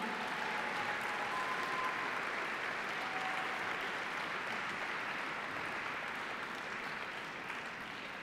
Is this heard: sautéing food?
no